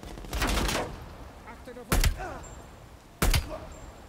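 Gunfire rings out in the shooter game Call of Duty: Black Ops Cold War, with three loud, separate bursts of shots spaced a second or so apart and quieter scattered effects between them.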